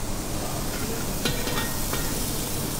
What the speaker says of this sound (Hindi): पनीर को प्रॉपर कुक कर लेंगे